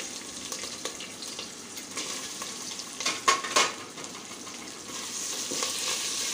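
Sliced onion sautés in a pan for Maharashtrian masale bhat, a soft, steady sizzle with a brief burst of stirring clatter in the middle.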